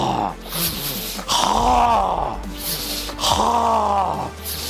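Deep, forceful breaths drawn from the stomach during Sanchin Kata, a karate breathing exercise, heard as two long, loud, close inhale-exhale cycles with strained, groaning throat tone and no spoken words.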